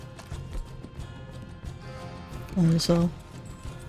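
Horse hooves in the video game Red Dead Redemption 2 clip-clop steadily under ongoing male speech, with a brief louder burst of sound near the end.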